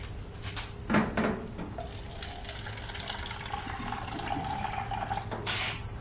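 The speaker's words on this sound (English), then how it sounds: "Y'all like that air bubble?" An air bubble gurgles up through a water cooler bottle, giving a couple of sharp glugs early on, then a softer sloshing, bubbling wash and one more gurgle near the end, close and moderately loud.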